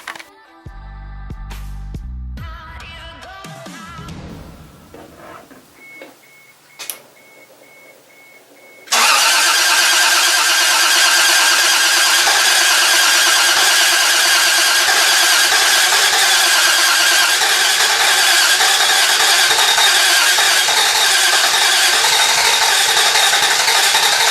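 Close by, a car engine with a fuel leak cranks in uneven bursts with a few knocks and clunks, then a loud, steady broadband roar fills the rest of the clip.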